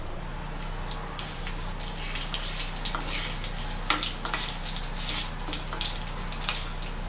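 Whole spices, bay leaf, cardamom, cinnamon and dried red chillies sizzle in hot oil for an egg tomato masala curry, a steady broadband hiss and crackle close by with a low hum underneath and no talk.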